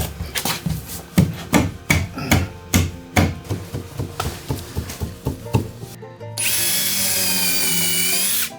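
A board is butt-jointed and screwed down in a traditional carpentry room addition. Rhythmic taps and thumps come first, followed by a loud, sustained whir of a power drill driving a screw.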